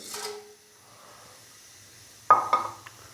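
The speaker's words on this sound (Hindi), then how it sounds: "साबुत खड़े मसालों को हल्का सा फ्राई कर लेंगे या कि हल्का सा रोस्ट कर लेंगे" Whole spices, including cinnamon, cloves, black peppercorns and star anise, sizzle in hot oil for a vegetable pulao: a soft hiss fades quickly, then a louder crackling sizzle bursts up near the end.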